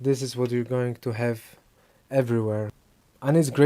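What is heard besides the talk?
No everyday noises stand out.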